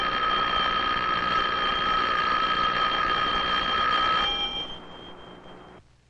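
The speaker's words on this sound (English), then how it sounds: "how does the sound of the electric bell travel to our ears?" An electric bell rings steadily for roughly four seconds in a continuous bright metallic clatter, then stops and decays into quieter residual hum before fading out.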